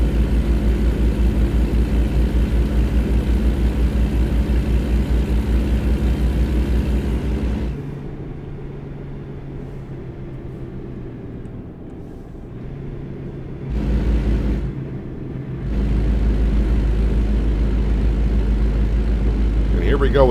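A truck engine drones steadily in American Truck Simulator, a loud low rumble that drops to a quieter idle-like hum midway, briefly swells, then returns to full strength.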